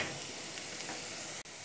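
Onions fry in a pan for a fish-free fish curry, giving a steady close sizzle with soft stirring scrapes and a brief click near the end.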